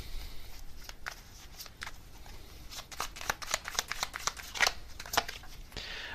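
Tarot cards shuffled by hand, a run of crisp riffling flicks and soft slaps in irregular bursts, close and fairly quiet, with no talk.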